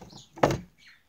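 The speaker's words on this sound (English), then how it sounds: "we have a door here, which slides open and close when I want it to." A sliding door on a small pet cage with hay bedding slides open and shut, one short scraping clack standing alone in near silence.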